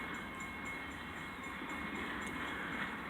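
Pan Am Railways freight train hauling Poland Spring water cars from Waterville, Maine toward Ayer, Massachusetts, rumbling past at a distance as a faint, steady, continuous roll with no voices.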